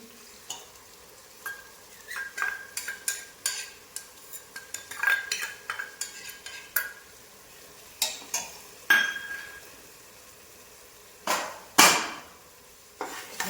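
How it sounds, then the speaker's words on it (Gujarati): Coriander-cumin powder and ginger-garlic paste sautéing in a pan for masala khichdi: a faint sizzle under irregular bursts of metal spoon scraping and clinking on the pan, close by, with no voices. "બરાબર સાંતળી લઈએ."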